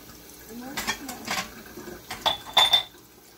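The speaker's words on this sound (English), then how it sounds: "Okay, time to wash those dishes." Dishes, pots and cutlery clatter and clink at a kitchen sink during a chore game, with water splashing faintly underneath; a few sharper knocks and scrapes cluster near the end, close and moderately loud.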